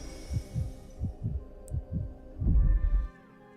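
Heavy heartbeat effect in the video game Honkai: Star Rail, deep paired thumps repeating steadily four times, loud and close, ending in a longer rumbling throb with no voices.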